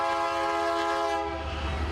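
A freight train on the Burlington Northern line rolls slowly through a marked railroad crossing in Claremore, Oklahoma, its horn blaring loud and close in a sustained chord over the steady rumble of the cars.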